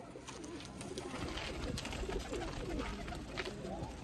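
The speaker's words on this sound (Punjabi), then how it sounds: "ਇਹ ਦੋਸਤੋ ਉਸ ਕਬੂਤਰ ਦਾ ਅੱਗੋਂ ਨਿਕਲਿਆ ਪੱਠਾ" Pigeons at a Sialkot pigeon-keeper's loft coo faintly beneath a soft, continuous background rustle, with no one speaking.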